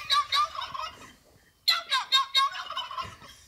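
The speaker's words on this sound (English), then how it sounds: "he found them turkey birds gobbling and carrying on" Turkeys gobble in two close, loud bursts of rapid, rattling calls separated by a short quiet gap, with no talking over them.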